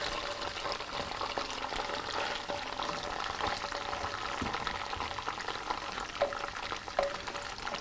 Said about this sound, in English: we're going to stir the olives around